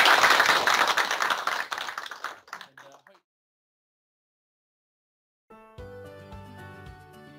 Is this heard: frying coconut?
no